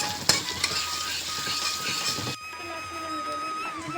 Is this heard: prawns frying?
yes